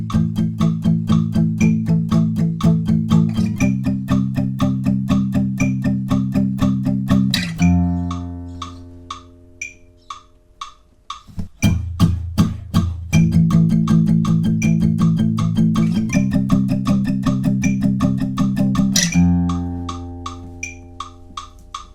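Electric guitar chugs palm-muted power chords in a steady repeated eighth-note rhythm for a pre-chorus, loud and close, with short pauses and ringing chords between passages, no voices.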